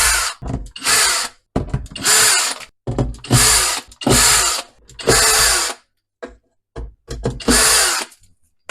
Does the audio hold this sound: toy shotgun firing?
no